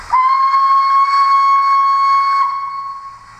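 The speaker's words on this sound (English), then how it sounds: "Let's try another different whistle here." Dapol Hawthorn Leslie model steam locomotive's DCC sound whistle gives one loud, clear, sustained steady tone that cuts off sharply after about two and a half seconds, leaving a faint fading tail.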